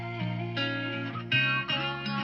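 A hip-hop beat with its 808 bass trimmed away by an EQ low cut, leaving thin, steady synth and melodic layers that change every half second or so, played alone at moderate level.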